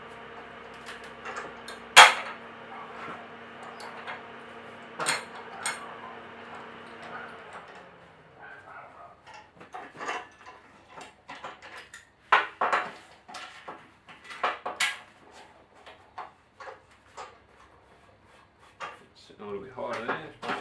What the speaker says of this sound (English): Clamps back on.